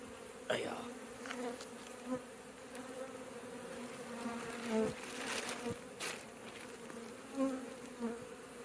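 Honey bees buzz in a steady, droning hum around disintegrating honeycomb, with a few louder passes as individual bees fly close.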